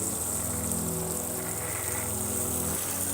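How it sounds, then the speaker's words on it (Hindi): Heavy rain pours down in a steady, unbroken hiss, with a low droning tone running underneath throughout. "बेटा बारिश बहुत हो रही है"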